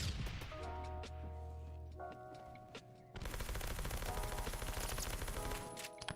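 Can cannon fire in the shooter game Phantom Forces: sparse shots at first, then a dense, rapid burst of repeated gunfire cracks that dominates the second half, with no talking.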